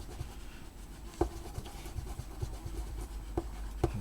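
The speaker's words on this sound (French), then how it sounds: "Je gomme les repères qu'on a fait." A rubber eraser rubs back and forth across paper, clearing dry pencil guide marks from a Son Goku drawing; soft close scratchy strokes with a few light taps, no talking.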